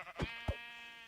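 Sheep in Minecraft bleat in short, quavering calls, two quick ones close together and a softer third, heard alone and fairly quiet.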